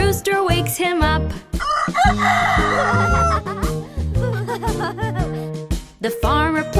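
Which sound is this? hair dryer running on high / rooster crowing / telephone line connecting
rooster crowing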